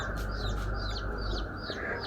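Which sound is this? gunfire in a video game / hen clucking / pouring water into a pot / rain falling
hen clucking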